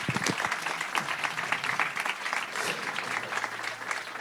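A talk audience claps loudly and steadily for a speaker, a dense, close burst of applause sustained throughout with no letup.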